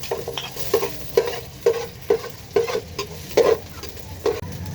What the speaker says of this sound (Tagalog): Palutuin mo muna yung luya. Halo-haloin mo muna.